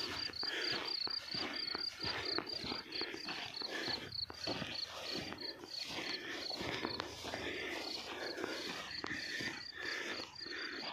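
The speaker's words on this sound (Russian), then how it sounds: "О, кузнечики фигачат." Grasshoppers chirp continuously in a spring field, a high pulsing trill running throughout against outdoor ambience with faint footsteps and movement, while enduro motorcycle riders gather nearby.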